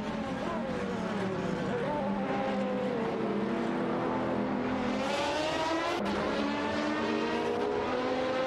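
Race car engines scream in an AI racing video game, several cars whining and shifting pitch as they jockey for position, a steady dense roar with one car sweeping past near the end.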